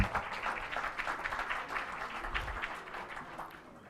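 Applause from a conference audience, a dense patter of many hands clapping at a moderate distance, fairly quiet and sustained for several seconds with no talking over it.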